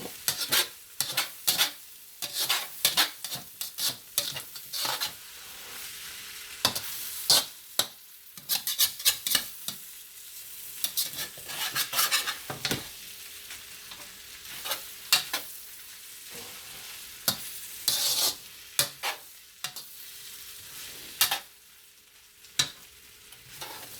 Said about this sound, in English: Make sure all the noodles get marinated with the sauce.